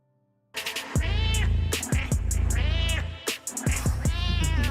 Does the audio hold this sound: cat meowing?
yes